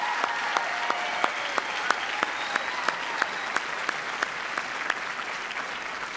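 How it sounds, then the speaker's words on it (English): Applause at a college commencement ceremony honoring a bagpiper, steady clapping from a crowd with a few sharp individual claps standing out above the wash, no voices. "give a brief round of applause to Tom, the bagpiper, for serenading us"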